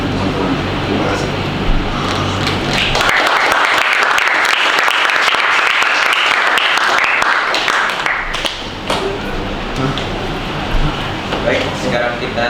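Loud, sustained audience applause at a school event in Indonesia, dense clapping swelling for several seconds then easing toward the end under a steady room hum.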